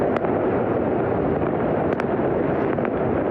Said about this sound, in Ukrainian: У Хевроні замість вибухів лунають феєрверки